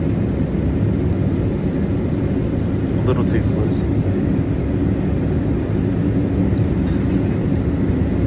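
Steady broadband drone of an airliner cabin in flight during an in-flight meal, a constant rumble and hiss running beneath a person speaking.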